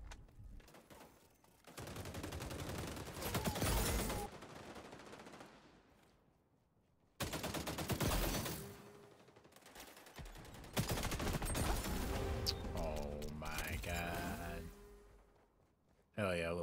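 Turret gunfire in XDefiant on the Waterfront map: long, loud sustained automatic bursts, close and rapid, broken by short pauses, with a player talking between and over the firing.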